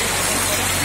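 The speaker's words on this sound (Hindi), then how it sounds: "ज़्यादा बारिश शुरू हो गई है यहाँ पे" Heavy rain pours down in snowy Arang Kel, Azad Kashmir, a dense steady hiss filling a brief moment.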